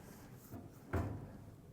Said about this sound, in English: So I'll have you close the drawer